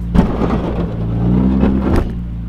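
Lowered car grinding its underside over a speed bump, a loud low scrape and rumble under steady engine drone, with a couple of harder knocks.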